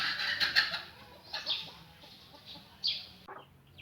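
A hen on a free range chicken farm gives a few short clucks and soft calls in uneven bursts, close and fairly quiet against a calm background, with no talking.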